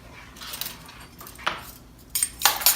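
A spoon stirs garlic powder into rice in a pot, giving a few scattered metallic scrapes and clinks, close and fairly quiet, with brief pauses between strokes and no talk.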